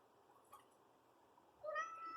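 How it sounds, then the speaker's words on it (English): Cats meowing indoors, a faint short call early on followed by a louder, drawn-out meow near the end, heard alone over quiet room tone. "Excuse the cats."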